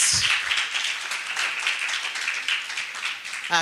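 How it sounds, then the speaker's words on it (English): Steady, dense applause from a crowd fills the whole stretch, loud and continuous with no pauses. "can we give him another round of applause, please?"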